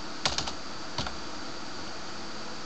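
A few quick keystrokes tap on a computer keyboard while a CAD assembly drawing is edited, a short cluster of clicks followed by one more, close and crisp against a steady background hiss.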